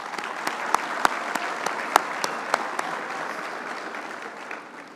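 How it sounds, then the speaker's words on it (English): An audience at a city's State of the City address claps together in a sustained round of applause with sharp individual claps standing out, fading slightly at the end. "let's give them another round of applause"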